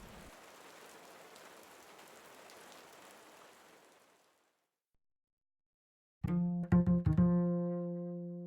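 Steady autumn rain patters on the ground around a tented camp, a continuous hiss that fades out into silence, then a bright, ringing musical tone sounds afterward.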